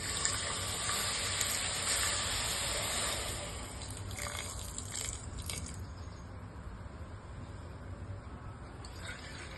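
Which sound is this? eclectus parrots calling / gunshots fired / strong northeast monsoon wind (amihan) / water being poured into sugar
water being poured into sugar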